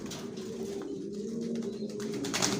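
Johnson racing homing pigeons coo steadily in a loft, a continuous close, moderately loud murmuring coo with no talk over it.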